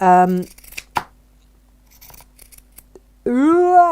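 Pinking shears snip through fabric around curves, a few crisp close cuts in the middle stretch, with someone talking at the start and again at the end.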